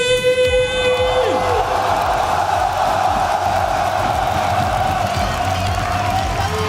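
A large esports arena crowd at a League of Legends group-stage match roars in a sustained, loud mass of voices that may be booing a team walking on stage, continuing steadily throughout.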